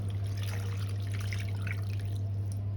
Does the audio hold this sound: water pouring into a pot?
yes